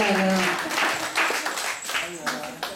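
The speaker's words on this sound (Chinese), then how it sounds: "我们掌声鼓励他，很有勇气讲出来了。" Audience applause at a children's princess and prince pageant for traditional games in a tribal village, a steady crowd clapping that keeps going beneath a host's voice.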